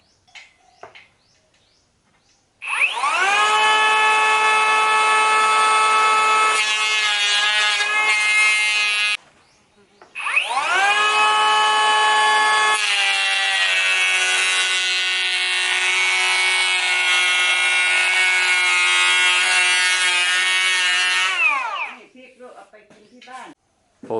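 A Bosch GHO 185-LI cordless power planer whines loudly in two long passes over wood, a steady high-pitched motor roar with a short pause between runs, close and continuous.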